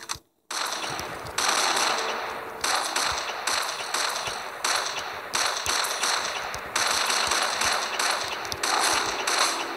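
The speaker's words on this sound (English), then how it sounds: "I like this gun. It's like a multiple shotgun." A multi-shot shotgun in a video game fires in rapid repeated bursts, loud dense blasts following one another in quick rhythm after a brief silent start.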